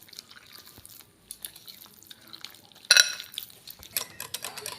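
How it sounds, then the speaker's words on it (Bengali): Flour and water batter for palm patishapta pitha being stirred in a bowl: soft liquid swirling and dripping, then a sharp clink of utensil against the dish followed by brisker scraping and stirring, close-up with no talking. "আমি মোট 2 বাটি জল ব্যবহার করেছি, তারপর একটা স্টিনারের সাহায্যে ঘুরিয়ে দিয়েছি।"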